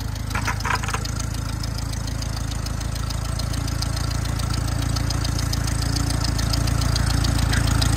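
Tractor engine idling steadily outdoors, a continuous low mechanical rumble with a faint irregular knock, fairly close and unbroken throughout with no talk.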